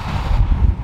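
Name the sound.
wind blowing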